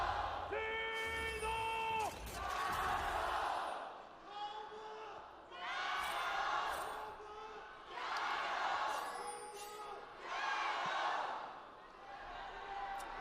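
Home crowd at an LPL Summer 2019 esports match between Top Esports and JD Gaming chanting in repeated rising swells, with a commentator's voice heard over the first surge.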